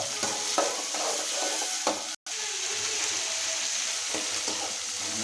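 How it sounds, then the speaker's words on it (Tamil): Onion, tomato and chana dal sizzle steadily in hot oil in a pan, with a brief pause midway and a few soft scraping stirs, close and continuous, with no voices. "தக்காளியை போட்டுக்கலாம் நல்லா வணக்கிக்கலாம்"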